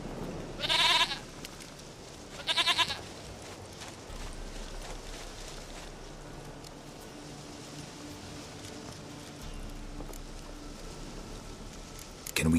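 Two short, loud goat bleats in The Witcher 3, about two seconds apart near the start, followed by a long quiet stretch of low outdoor ambience.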